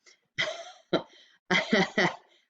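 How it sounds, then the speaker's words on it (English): Several rough, throaty coughs in a fitful series, close and fairly loud, with brief silences between bursts. "that was just an allergy cough"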